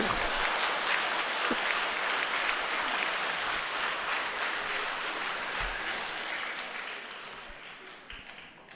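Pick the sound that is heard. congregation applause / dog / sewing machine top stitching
congregation applause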